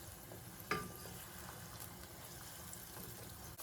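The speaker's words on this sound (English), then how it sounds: "checking in on our onion, so we're going to leave that to sizzle" Chopped onion sizzles while frying in a pan, a faint, steady crackling hiss with a small clatter early on, with no voices over it.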